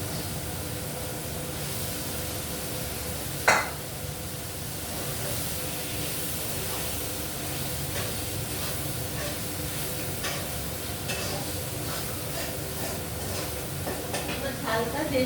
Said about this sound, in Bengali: আলু বেগুনটাও মশলাটা কষাচ্ছি, তো এই আলু বেগুনটাও মশলার সাথে দিয়ে দেবো।